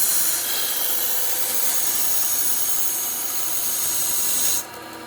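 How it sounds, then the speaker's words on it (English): A regular knife is ground against a running belt sharpener, giving a loud, continuous hissing rasp that holds steady for several seconds and then cuts off abruptly near the end. "we'll sharpen a regular knife."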